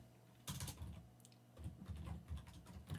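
Quick keystrokes on a computer keyboard as code is typed, a close, quiet patter of clicks in uneven bursts.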